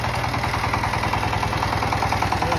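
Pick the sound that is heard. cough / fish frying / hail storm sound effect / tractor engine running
tractor engine running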